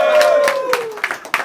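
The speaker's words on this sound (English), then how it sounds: "give a round of applause to the countdown champ" Applause and cheering from a bar crowd at a rap battle rise loudly over a held tone, with sharp bursts of clapping continuing throughout.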